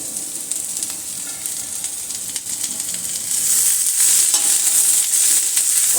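Sliced okra (bhindi) sautéing in a pan over a high flame, giving a steady bright sizzle with stirring scrapes that swells louder toward the end.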